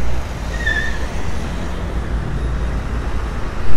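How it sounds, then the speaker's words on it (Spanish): Busy street traffic in Heraklion, Crete: a loud, steady roadway rumble of passing cars, with one faint, brief horn-like tone early on and a swell of engine noise near the end. No talking. "La gente tocando la bocina,"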